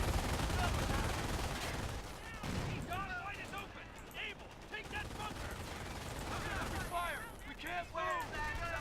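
Rattling machine-gun bursts and scattered rifle fire roll through a Company of Heroes battle in a dense, continuous din, with explosions and game voices mixed into the clamor.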